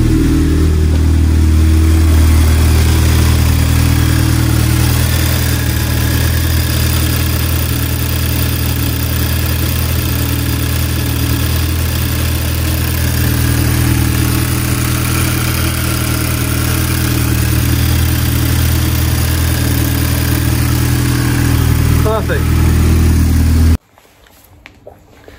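An Audi S3 8P engine, started after a cam follower change, idles steadily and loudly with a low, even rumble close by, then cuts off abruptly near the end, leaving brief faint clicks.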